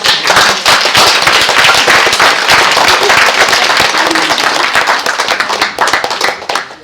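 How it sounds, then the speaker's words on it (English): A festival crowd at an artisan marmalade event claps in a dense, loud round of applause that runs steadily for several seconds and thins slightly toward the end. "Yes, thank a round of applause."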